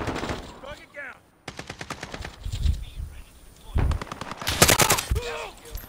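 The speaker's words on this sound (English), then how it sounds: "I got shot in the back" Rapid automatic gunfire bursts in Modern Warfare, loud and close, coming in several volleys with short pauses, mixed with game effects and a voice talking in between.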